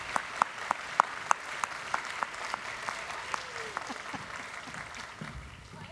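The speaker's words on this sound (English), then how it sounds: "Please give her a round of applause." Applause from an audience at an International Women's Day showcase event in South Australia, greeting a speaker being introduced; a fairly faint, steady patter of clapping with a few sharper claps standing out early, fading toward the end.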